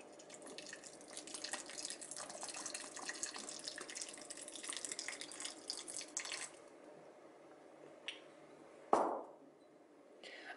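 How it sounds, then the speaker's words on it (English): Balsamic and red wine vinegar pour in a thin, steady trickle into a rhubarb chutney. The faint liquid stream runs for several seconds, then thins to a few separate drips and a small clink. "what I want to do now is just add my vinegar, and I need about 300 millilitres"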